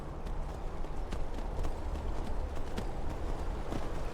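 Horse galloping in Skyrim, a quick, steady thud of hooves over a low rumbling ground, fairly close and continuous with no talk.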